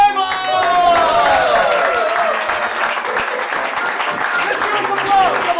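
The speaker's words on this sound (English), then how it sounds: "Let's give him some applause." A comedy festival audience at a puppet show applauds and cheers for an arriving performer, dense sustained clapping and whoops filling the room, while a voice talks over the top.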